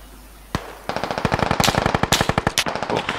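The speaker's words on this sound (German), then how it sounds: "Schuss direkt auf mich" Rapid bursts of automatic gunfire in the video game Squad, loud and close, with a single shot first and then a sustained rattling volley of dozens of rounds.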